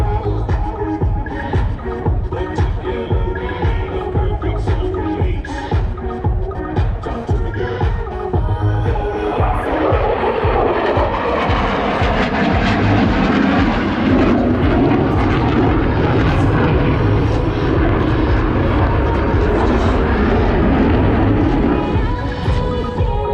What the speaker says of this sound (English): The F-16 through a series of aileron rolls, demonstrating its exceptional roll maneuverability.